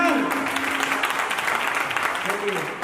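Audience at a Wake Your Dreams pre-launch event applauding loudly and steadily, a dense wash of clapping with a voice faintly over it throughout.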